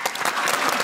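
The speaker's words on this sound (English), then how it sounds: "My entrance applause." A short burst of audience applause for an actor's entrance at a PaleyFest LA panel, a dense, fairly loud clatter of clapping heard alone.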